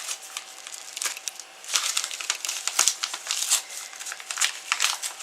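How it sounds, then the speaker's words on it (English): Crisp wrapping paper crinkling and tearing, close by, in a run of uneven rips and rustles with a few sharper snaps. "Oh, I didn't want to rip this paper, and I did."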